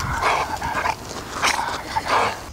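A pet dog whimpers and yips in short, high, breathy bursts at close range during an indoor documentary shoot, several whines spaced across a couple of seconds with no talk over them.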